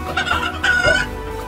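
A chicken clucks close by in a few short bursts, with a brief crow-like call in the middle and no voices.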